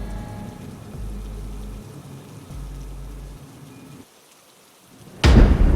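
A heavy lightning bolt in a horror story, opening with rain-like rumbling and low thunder, a short hush, then a sudden loud thunderclap at the very end.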